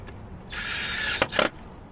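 A power drill or driver whirs for about a second, then gives two short buzzing bursts, screwing a fastener into a corner bracket during a soft window installation; close and fairly quiet, with no talking.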